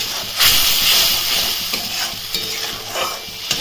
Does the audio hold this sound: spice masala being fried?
yes